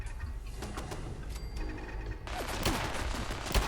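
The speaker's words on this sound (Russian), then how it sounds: "Пулеметная турель, штука весьма мощненькая." A machine gun turret in Fallout 4 fires a fast, dense burst of gunfire over mechanical clatter, rising louder toward the end with no talk.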